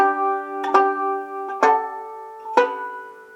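Three plucked guitar notes and chords ring out one by one, each a sharp attack that decays into sustained tones, the last closing measures 1 and 2 with a ringing B-string harmonic, close and alone.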